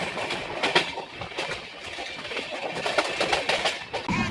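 An Indian express train with LHB coaches, the Shaktipunj Express, runs along the track, heard from inside a sleeper coach as a steady loud rumble with rhythmic rail clatter and wheel knocks throughout, no voices.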